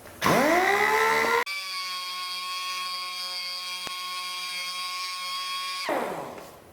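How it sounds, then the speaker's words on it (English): A power sander whines as it works out a light scratch on motorcycle bodywork paint, revving up to a high pitch, then holding a steady tonal drone for several seconds before cutting off. "Sanded out just fine because it was a very light scratch."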